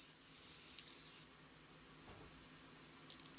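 An SPF 50 sunscreen spray can gives one loud, steady hiss that lasts about a second and then cuts off abruptly, followed by quiet and a few faint handling clicks.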